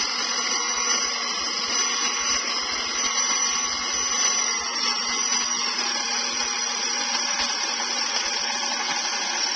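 Electric grinder running at a steady, high-pitched whine in a home kitchen during cooking, a continuous buzzing hum with no pauses, close and fairly loud.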